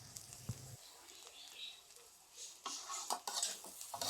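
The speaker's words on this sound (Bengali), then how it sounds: "এবার সব কিছু ভালো করে মিশিয়ে নেব।" Fish head curry (muri ghonto) with ghee and chopped coriander being stirred in a pan, giving soft scraping and clinking of a spoon against metal with faint sizzling, growing busier toward the end.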